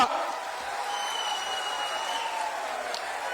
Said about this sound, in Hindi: अरे जोर से ताली बजाओ